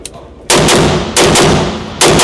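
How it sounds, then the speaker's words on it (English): .308 rifle gunshots at a Texas gun show: three very loud, sharp blasts about three-quarters of a second apart, each ringing briefly before the next, with no talk. "Everybody was asking, is this a 308? It's shooting like one."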